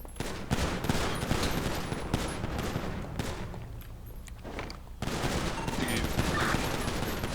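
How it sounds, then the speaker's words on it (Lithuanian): Rapid, continuous bursts of gunfire fired through a lift, dense and loud with overlapping shots and a short lull midway, amid a fast-paced firefight. "Per liftą šaudo."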